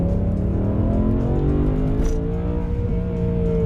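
A deep, steady BMW M3 engine note with rich low harmonics, idling and gently revving through the exhaust, continuous and close.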